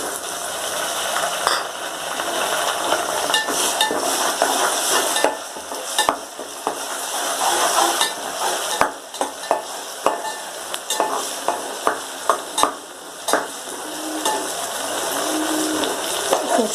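Onions fry in a pan for a spicy guar bean (cluster bean) sabzi, giving a steady loud sizzle with scraping stirs and clinks of a spoon against the pan throughout, and no talk.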